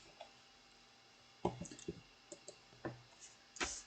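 Writing on a board during a lecture makes sparse, faint clicks and scratchy taps in irregular bursts, with near-silence between strokes.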